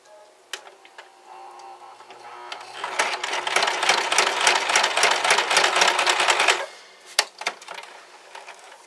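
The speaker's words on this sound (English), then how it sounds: "So here I'm just gonna do a straight stitch on this one here." A sewing machine running a straight stitch, near and moderately loud: a few isolated clicks, then a quick, even run of needle ticks lasting several seconds, and a couple of sharp clicks after it stops.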